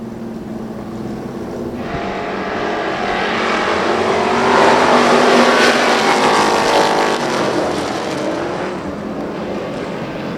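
Race cars roar along the track during a short-track racing event, engines swelling louder as the pack sweeps closer around the midpoint, then easing slightly as they pass on.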